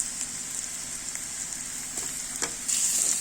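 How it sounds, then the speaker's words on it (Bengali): Chopped tomatoes with turmeric fry in a pan, a soft continuous sizzle with a few light scrapes of stirring, quiet and close, with no voices. "এখন একটু নাড়িয়ে নেব।"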